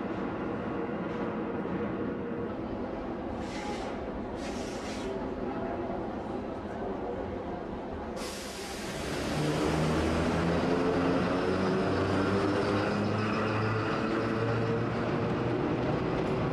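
Paris metro Sprague-Thompson train running, a steady rumbling rail roar that swells louder partway through with screeching wheel and motor tones.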